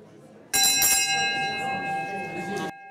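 A struck gong timing short job-dating interviews rings out once with a bright metallic clang that sustains and shimmers for about two seconds before cutting off, loud and close.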